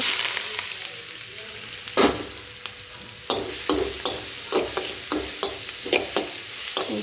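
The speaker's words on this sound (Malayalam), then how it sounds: "ചതച്ച് വെച്ചിട്ടുള്ള തേങ്ങാപ്പീര ഉള്ളി എല്ലാം കൂടെ ഇതിലേക്ക് ഇട്ട് ഒന്ന് വഴന്ന് വരുമ്പോൾ" Crushed coconut and onion sizzle in hot oil after mustard seeds, with repeated stirring scrapes and clinks of a spoon against a pan, close and steady, no voices.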